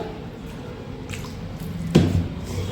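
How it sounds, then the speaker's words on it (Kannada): Wheat flour dough mixed with fenugreek leaves and a little water is kneaded by hand for paratha, making soft wet squishes and sticky slaps, with one louder squelch near the end. "ಈ ಥರ ಕಲಿಸ್ಕೋಬೇಕು ನಾವು ಚಪಾತಿ ಹಿಟ್ಟು ಹೇಗೆ ಕಲಿಸ್ತೀವಿ ಹಾಗೆ ಕಲಿಸ್ಕೊಂಡ್ರೆ ಸಾಕು"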